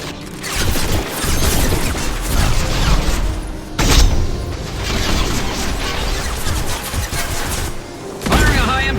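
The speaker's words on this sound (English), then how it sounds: "Firing a high-impact shot! This should punch through their armor." Heavy, loud gunfire and blasts from Mass Effect 2 combat, with dense bursts, booms and rumbling impacts running through the whole stretch, a sharp hit near the middle.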